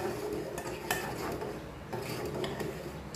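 A spoon stirs kheer in a metal pot, producing a few scraping and clinking strokes against the pot's sides over a soft background, with no talking.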